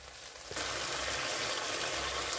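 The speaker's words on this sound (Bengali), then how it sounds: "বাটি ধুয়ে অল্প জলও দিয়ে দিলাম।" Mustard and poppy-seed paste masala sizzling in a pan as a little water is added, a sudden loud hiss rising into steady, close frying and bubbling that continues to the end.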